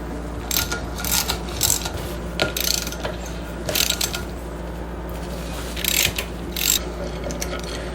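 A hand ratchet works bolts off the power steering pump bracket on a Chevy 350 in a G-Body Cutlass, giving short bursts of rapid clicking repeated several times over a steady background hum, close by with no talk.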